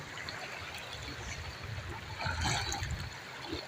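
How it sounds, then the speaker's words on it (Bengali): Floodwater flowing through Bhutni, a continuous rushing, trickling wash of water with a busier surge partway through and faint background activity. "আর আপনারা যেটা দেখছেন সেটা হচ্ছে ভূতনিতে বন্যা হয়েছে।"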